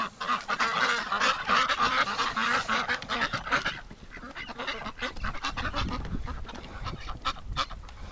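A group of Muscovy ducks being herded into a shed in winter, giving dense, continuous honking and hissing calls up close, thinning to scattered calls and rustling shuffles of movement in the second half.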